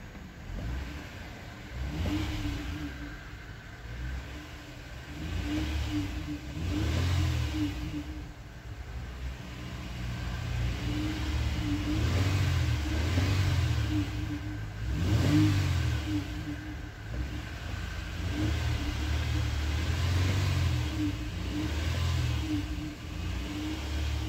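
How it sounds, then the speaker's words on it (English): A 2013 Honda Ridgeline 4WD pickup truck engine revving in repeated surges, deep rumbling rises and falls with a steady idle between, close and fairly loud, no voices. "Let's go ahead and give it some revs."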